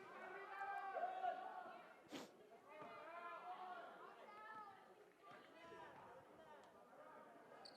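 Crowd murmur and cheering fills a gym during a women's college basketball game between Brevard and Berry, a steady mid-level roar of many voices with a sharp clap-like hit near the two-second mark and swelling reactions throughout.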